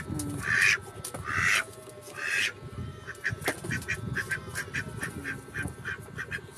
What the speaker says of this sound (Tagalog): Ito po yung aking itik.